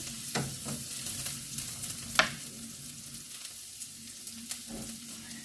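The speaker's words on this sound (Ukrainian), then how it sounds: "Цибулька нам потрібна, щоб була золотисто така прозора. Не зовсім проготовлена. Ось так вона трішечки почала підрум'янюватися." Onion frying in a pan, turning golden and translucent as it starts to brown, a steady soft sizzle with a few stirring scrapes and one sharp clink, no talking.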